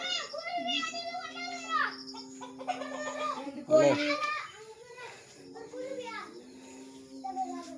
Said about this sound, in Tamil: ஒன்று ரெண்டு கோழி சத்தம் கேட்குதுப்பா